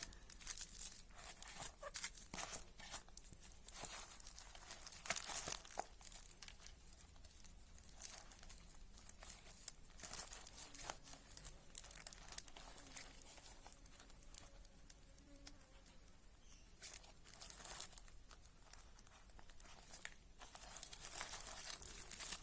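A plastic cover being wrapped and tied around a black pepper branch for air layering. Close, faint crinkling and rustling crackles run throughout with no talking.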